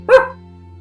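An animated dog on Steam lets out one short, sharp bark, close and clear, then falls quiet over a faint low hum.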